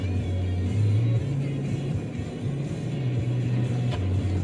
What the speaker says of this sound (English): All right, so we're back in the car.